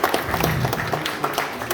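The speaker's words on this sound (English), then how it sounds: "Let's give him a round of applause." A brief round of audience applause at a reptile and exotic animal show in a wildlife park, a short burst of scattered claps from a small crowd, fairly close and even.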